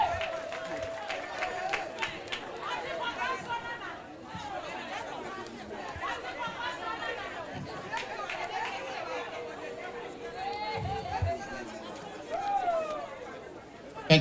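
A crowd at a hospital inauguration ceremony for a paediatric intensive care unit chatters and calls out in a steady, lively din, with scattered shouts and a brief burst of clapping near the end.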